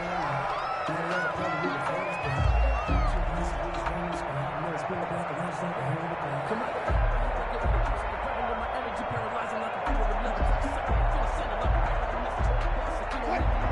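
Stadium crowd at a Seahawks vs Cardinals football game, a steady, broad roar of a large crowd with scattered shouts and rises, heard under ongoing play-by-play commentary.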